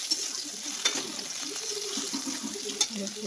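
Oil frying in a pan before greens are added, a quiet steady sizzle with a few sharp crackles and spits, no talk.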